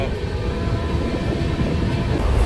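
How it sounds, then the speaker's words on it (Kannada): A train rumbles steadily along the tracks, a loud continuous low roar with faint rattling and no clear voices. "ಟ್ರೈನ್ ಹತ್ತಿದ್ದಾಯ್ತು ಈಗ ಇನ್ನೇನೇನು ಓಡ್ತಾ ಐತೆ"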